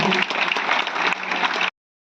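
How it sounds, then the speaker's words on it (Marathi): Audience applause at a film festival event, a dense burst of clapping lasting under two seconds, loud and close, then cutting off abruptly into silence. "पुन्हा एकदा मामांसाठी जोरदार टाळ्या झाला"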